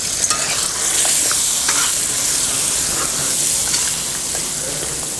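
Fish pieces for Kerala-style fish pickle fry and are stirred in hot oil, a dense continuous sizzle with scraping stirs throughout, loud and close with no talk.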